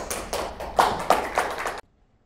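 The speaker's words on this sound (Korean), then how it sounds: "박수를 부탁드립니다." Applause from an audience at an academic conference keynote, a short burst of claps with a few louder peaks that cuts off abruptly after about two seconds.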